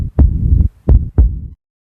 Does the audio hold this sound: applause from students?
no